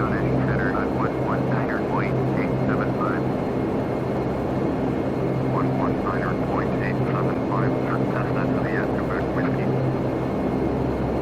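Dash 8 turboprop engines at takeoff power on a Dundee runway, a loud, steady droning roar with a constant low hum filling the cabin throughout, under faint crew radio chatter.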